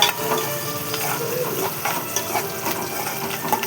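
Food frying in a pan until golden, with a continuous sizzling crackle and light stirring scrapes close by.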